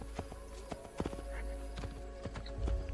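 Horse hooves clip-clop at a walking pace in the video game Assassin's Creed 2, an irregular series of sharp knocks over a steady game ambience hum, with a brief whinny-like rise near the end.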